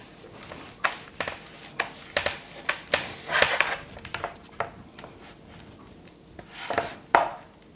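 A knife cutting through homemade rocky road candy on a board, a series of sharp chopping knocks at an irregular, steady pace, close and moderately loud with no voices.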